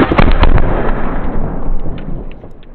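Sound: 2 pound Tannerite exploding

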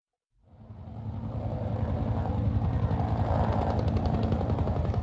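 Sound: helicopter arriving in the video game Dead Rising

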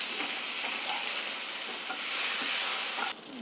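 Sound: chicken pieces frying in oil for biryani

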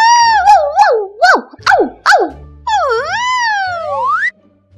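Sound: puppies crying, stuck in mud

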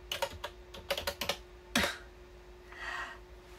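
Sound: typing on wireless keyboard

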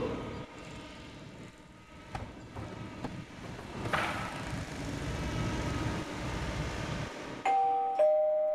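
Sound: doorbell ringing

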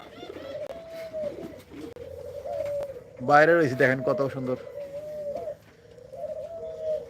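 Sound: pigeons cooing

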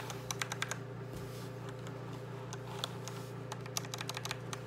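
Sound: mechanical keyboard escape key presses, Cherry MX Red switches

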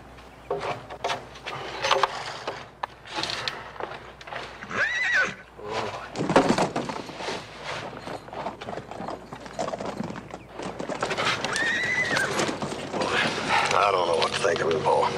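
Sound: horse neighing and hooves

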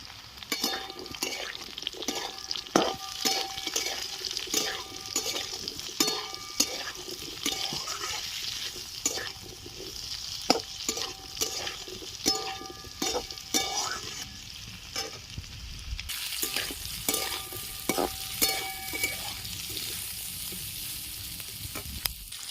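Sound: frying chopped onions for poppy seed dish

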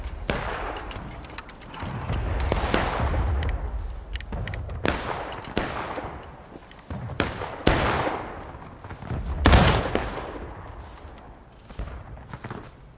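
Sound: musket gunfire volley in the video game War of Rights

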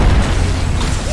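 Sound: grenade explosions in a video game (Apex Legends)

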